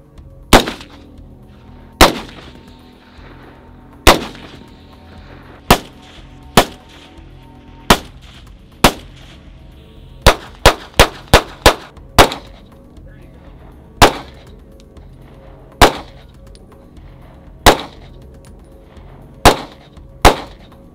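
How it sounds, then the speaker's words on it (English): Firearms fired at an outdoor shooting range, loud sharp reports spaced every second or two, with a rapid string of five quick shots in the middle, close and echoing over a quiet background. "Well, Shane, we just did a lot of shooting"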